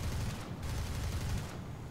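Yak-1's 20 mm cannon firing in the War Thunder flight game: rapid, continuous bursts of loud automatic gunfire, dense and close, with two very brief pauses.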